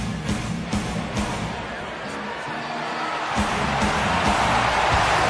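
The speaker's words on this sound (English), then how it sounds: "listen to the crowd. They love this guy" An arena crowd at a UFC mixed martial arts event roars and cheers as a fighter heads to the octagon, a loud sustained din with sharp thumps and bursts over a commentator's voice.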